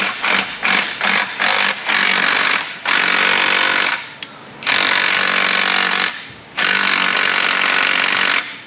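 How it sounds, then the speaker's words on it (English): Bursts of an impact power tool hammering at bolts on the exhaust of a 2007 Sierra 5.3 pickup, loud and close, several long rattling runs separated by short pauses. "Okay, time for power tools."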